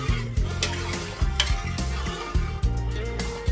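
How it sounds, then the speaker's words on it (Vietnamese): A spoon stirs a pot of simmering corn milk in repeated scraping strokes against the metal, close and fairly loud, in an even rhythm with no talk. "Quậy đều và bây giờ cái nồi sữa bắp đã sôi rồi."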